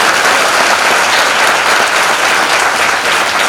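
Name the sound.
church congregation clapping loudly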